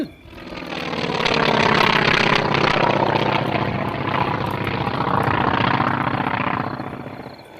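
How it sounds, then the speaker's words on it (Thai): A propeller airplane drones steadily overhead as it flies off into thick clouds in a wartime audio drama, its engine a loud continuous rumble that swells and then fades near the end. "จ้องขึ้นไปบนเครื่องบิน ซึ่งขณะนี้บินผละออกจากพื้นที่ดังกล่าวหายลับไปบนกลุ่มเมฆ"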